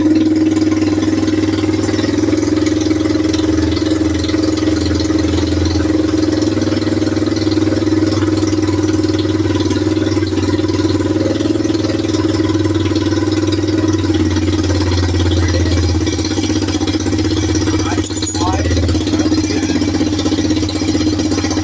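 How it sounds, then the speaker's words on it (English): Arctic Cat Timberwolf ATV engine idles steadily after its idle is turned up, a close, loud, even rumbling drone with a slight rattle throughout and a brief dip near the end. "So I'm going to turn up my idle just a bit."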